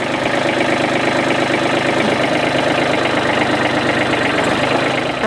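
Tractor engine idling at a construction site after a slab pour, a loud steady low rumble with continuous mechanical chugging throughout and no pauses.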